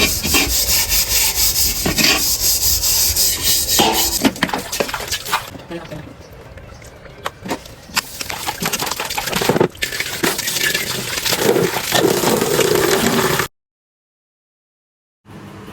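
Harsh, gritty scraping and rubbing as a cooking pot is scrubbed with ash, close and loud, steady strokes with brief pauses, as a voice talks intermittently over it before it cuts off.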